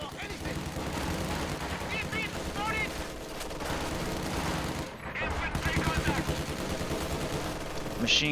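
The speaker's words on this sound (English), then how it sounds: "Machine gun and Pios forcing away that squad in the south" Machine gun fire and other gunfire from a World War II strategy video game battle, with MG42 and T-34 tanks in play, rattling bursts over a dense, continuous din of combat effects, with a brief dip midway.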